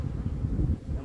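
A dense, low hum of honey bees from a shaken package right beside the hive frames, steady and close with no pauses.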